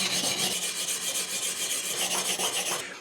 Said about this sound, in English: So after kind of a lot of grinding against sandpaper, this thing still has a pretty vicious hollow in the middle.